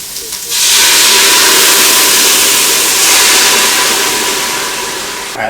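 Half a cup of white wine at a rolling boil in a pan, readied for pompano fish head soup, gives a loud, steady hiss and sizzle that starts abruptly and holds for about five seconds before easing slightly.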